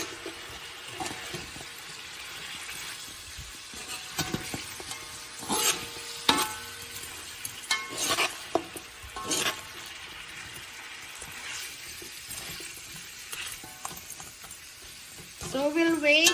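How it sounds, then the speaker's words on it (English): Shrimp and vegetables for pancit bihon are sautéed and mixed in a pan, with a soft sizzle broken by repeated utensil scrapes and clinks; the sound is fairly quiet and a voice is heard at times. "saute everything like this. Mix everything."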